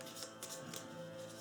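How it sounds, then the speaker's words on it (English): Pathfinder Adventure Card Game cards being shuffled, a faint, steady papery riffle running throughout with a few brighter bursts of card flicks, no voices. "so we will shuffle them"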